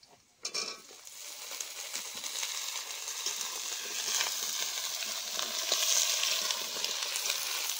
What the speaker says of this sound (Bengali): পেঁয়াজগুলো লাল লাল করে ভাজা হয়ে গেল, এখন এখানে দিয়ে দিচ্ছি আলু